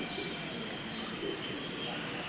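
Pigeons coo softly from a rooftop loft, faint and low beneath a steady wash of outdoor background noise.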